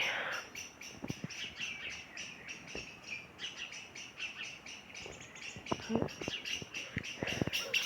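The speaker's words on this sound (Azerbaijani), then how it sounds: "Hələ quşlar oxuyur." Birds chirp and sing steadily in the background, with several sharper, louder calls standing out near the end.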